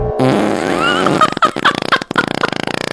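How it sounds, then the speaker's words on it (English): A long, loud, wet fart sound effect that stretches out, then sputters into a rapid series of flapping bursts. "he looks like he's straining, because he can't hold it in, he just farts."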